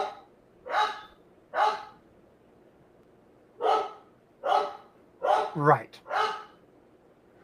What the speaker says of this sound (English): Wait till the dog stops.